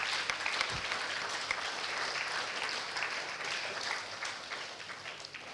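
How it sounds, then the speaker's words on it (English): A conference audience applauds at an international skills conference in Madurai with sustained, dense clapping from many people in a hall, steady and evenly loud, easing slightly toward the end. "Give a very big applause for that."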